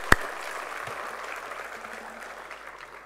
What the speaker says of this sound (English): let's have one round of applause for your achievement